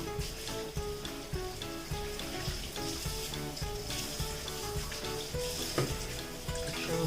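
Raw chicken being washed under a running kitchen tap, a steady close hiss and splatter of flowing water with a soft irregular patter that carries on through the whole stretch without talk.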